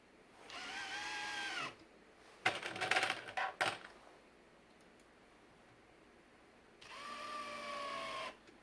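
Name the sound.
Makita 18V sub compact impact driver and drill driving screws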